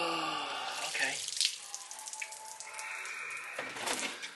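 Water from a bucket splashes and trickles over a powder-coated wheel and tire during cleaning, with a couple of louder pours and drips close by, and brief talk in the background.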